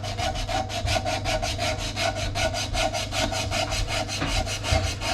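Sixty-grit sandpaper rubs against a beech yarn bowl spinning on a wood lathe, a loud, close, rhythmic scratchy rasp pulsing evenly with each stroke and no talking.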